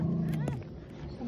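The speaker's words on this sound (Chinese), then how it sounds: "有小奶狗的叫声" A tiny puppy stuck in a muddy drain or ditch gives a short whining cry, a sustained tonal whimper that fades and then briefly rises again, heard close with a faint background murmur.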